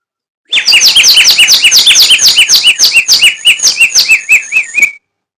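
A water-filled bird whistle toy blown in a rapid warbling run of bright, trilling chirps, loud and close, lasting several seconds before stopping.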